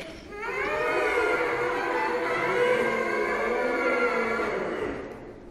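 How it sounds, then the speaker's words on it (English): A sustained buzzing tone from a brass mouthpiece, wavering slightly in pitch, held for several seconds and heard up close with no talking. "And when they blow through the mouthpiece, it sounds like this."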